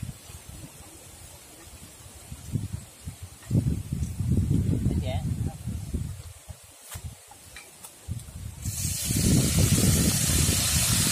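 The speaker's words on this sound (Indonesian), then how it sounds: "Kita goreng petai." Petai beans frying in hot oil in a home kitchen, a steady loud hiss and sizzle with crackling bursts, continuous and close, growing brighter toward the end.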